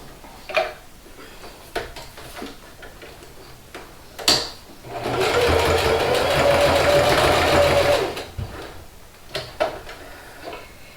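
A sewing machine stitches the nose dart on a stuffed fabric horse, running in one steady whirring burst of about three seconds, framed by scattered clicks and handling knocks before and after.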